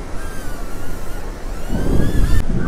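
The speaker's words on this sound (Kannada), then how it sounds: "ತುಂಬ ಗಾಳಿ ಇದೆ ಆ ಕಡೆ ಈ ಕಡೆ" Strong wind roars steadily at a clifftop viewpoint by Gaganachukki–Barachukki Falls, buffeting the microphone, with gusts swelling louder toward the end.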